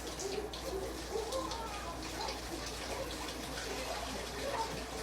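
Water pours steadily from a tap into a sink to fill a bath, a faint, continuous gushing heard a little way off, with a voice speaking at times.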